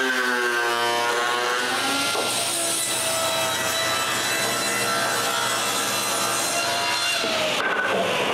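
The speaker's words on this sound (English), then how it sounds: "I make sure I have two straight surfaces and rip my glue up square." A saw rips a dried glued-up wood panel square in a woodworking shop, giving a loud, steady whining cut with a rising tone as the blade engages, sustained throughout.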